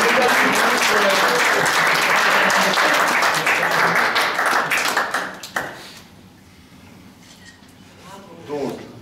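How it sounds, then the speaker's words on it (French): Audience applause at a closing-ceremony podium of a French D3 final, loud and dense for about five seconds, then fading to scattered claps and murmuring voices. "On peut encore les applaudir"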